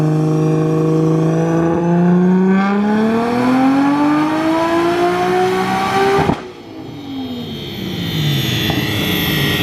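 A tuned Nissan Skyline pulls hard on the road, its loud engine note climbing steadily through the revs before cutting off abruptly, then a quieter, more distant drone continues.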